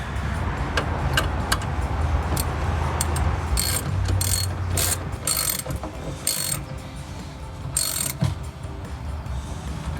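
A ratchet cranks down a 10 mm nut while fitting an MMD styling bar on a 2010-2014 Mustang, giving a loud run of close, gritty clicking strokes and short bursts over a steady background.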